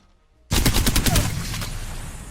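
A fast burst of seven gunshots from a gun in a video game, starting abruptly after a quiet moment and rattling in quick succession, loud and close, then trailing into echo.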